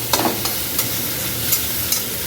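Onion and tomato sizzle in a pan, a steady close frying hiss broken by several light scraping stirs at a regular pace, with no voices.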